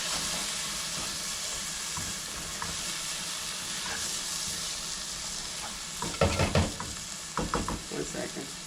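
Drained canned corn sizzles in a hot pan while a home meal is cooked, a constant loud frying hiss followed by bursts of scraping and stirring near the end.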